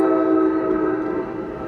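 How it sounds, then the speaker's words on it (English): A train rolls along tracks right behind a Taco Bell, a steady sustained rumble with strong tonal, horn-like hum holding level and close for the whole short stretch, no talking over it. "there's a train track right behind this Taco Bell."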